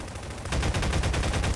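Rapid gunfire in the game Garry's Mod, a quick burst of closely spaced shots that starts softer and grows louder over a second or so.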